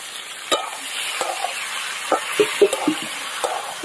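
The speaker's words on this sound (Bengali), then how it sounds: "এবার আমি এর মধ্যে মাংস দিয়ে দেবো।" Chicken meat fries with browned onions in a pan, a close sizzle broken by repeated scraping and stirring knocks at an uneven rhythm, with no speech.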